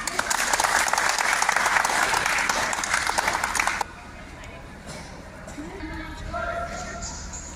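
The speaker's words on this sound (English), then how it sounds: "Let's clap" Audience applause at a school exhibition on art-integrated learning, a loud burst of dense clapping that stops abruptly midway, followed by quieter room noise and talk.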